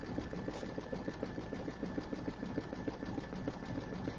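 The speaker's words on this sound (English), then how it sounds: "this machine sews pretty fast" A sewing machine runs fast and steadily, a dense, even mechanical whir with rapid needle ticking throughout, close and continuous with no talk.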